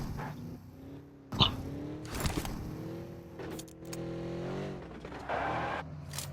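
A vehicle rolls up in the BGMI battle royale game, its engine hum rising and shifting in pitch with a few sharp clunks, heard fairly close and with no talking.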